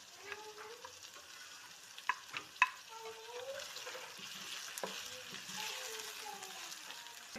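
Chicken pieces fry over low heat for chicken karahi, giving a soft, steady sizzle with a few light clinks and stirring knocks. The sound stays faint and close throughout.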